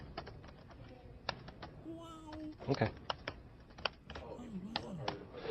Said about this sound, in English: Listen how loud that keyboard is.